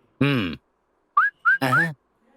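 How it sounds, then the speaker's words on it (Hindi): A man whistles at a woman with a short rising wolf-whistle, repeated a few times in quick bursts close by, and a voice sounds briefly before the whistles. "मुझे लड़की समझकर सीटी मार रहे हो क्या?"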